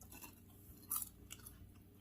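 Someone chewing crunchy homemade caramel popcorn with salted peanuts, close and quiet, with soft repeated crunches and one sharper bite near the middle.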